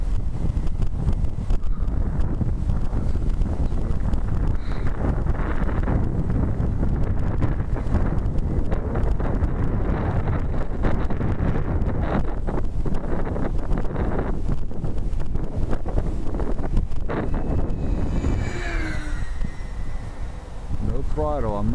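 Strong tailwind gusts batter the microphone at an RC flying field in 25 mph wind, a loud, constant rumbling roar. A small RC plane's motor whines faintly near the end.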